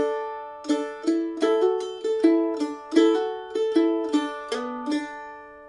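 An advanced mandolin phrase from a tune comes in about eight crisp picked attacks. Hammer-ons, slides and ringing drone notes link them in a lively, close, solo line with no talking.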